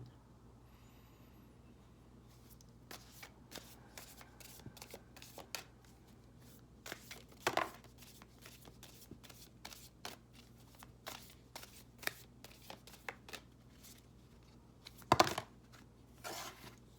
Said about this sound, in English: Let's get a message first from the Soul Coaching Oracle cards by Denise Lynn.